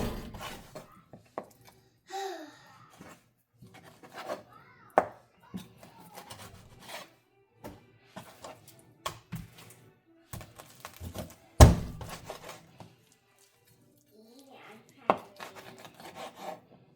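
Repeated knife chops and thunks on a cutting board as chicken is cut up, irregular and close, with scraping and rubbing between strokes.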